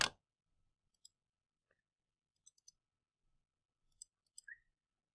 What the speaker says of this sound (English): So now I just need to type this into my calculator